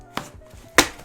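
A knife slicing open a taped package during an unboxing of vegan products, two sharp cutting strokes, the second louder and longer, close up with no talking.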